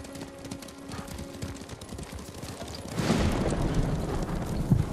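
A dense thunder of many horses' hooves galloping at once in the video game Ghost of Tsushima, growing louder and nearer partway through, with a rumbling, chaotic texture.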